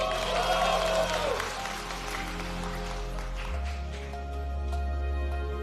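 Audience applause at the XPENG X9 launch event, honouring the robot team: a broad, steady clatter of clapping across the hall, mixed with sustained tones and a brief voice early on.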